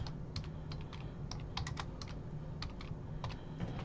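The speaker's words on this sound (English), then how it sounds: "type in the hits." Irregular keystrokes tap quietly on a computer keyboard, in quick clusters of clicks with brief pauses, close up and alone.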